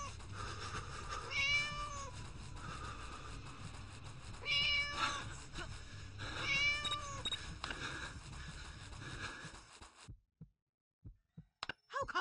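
A cartoon cat in the Scary Teacher 3D video game meows three times, close and clear over a low game backdrop, before the sound drops out to near silence broken by a few faint clicks.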